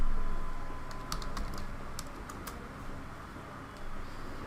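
Keys clatter on a computer keyboard in a short run of quick, irregular taps, close but fairly soft, over a faint room background with no talking.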